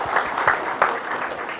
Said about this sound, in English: Please give applause for them.